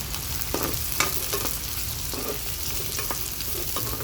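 Finely chopped onions fry in hot oil with a cinnamon stick, cloves and cardamom for aloo kurma, making a steady, close sizzle with occasional stirring scrapes throughout.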